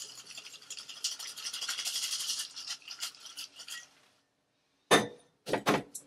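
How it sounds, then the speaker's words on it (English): An Earl Grey martini is dry shaken in a cocktail shaker without ice, giving a rapid rhythmic rattling for about four seconds. After a short silence come two louder separate clunks. "Then I'm going to go for a traditional dry shake"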